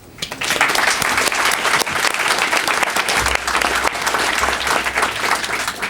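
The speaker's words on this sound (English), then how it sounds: "I think he deserves a great round of applause." At a November 2002 oath of office ceremony, the audience gives the city manager, Dave Knapp, a loud, full round of applause, dense clapping holding steady for several seconds with a low rumble partway through.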